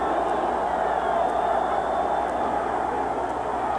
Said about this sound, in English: you'll hear the crowd. They're Steeler fans.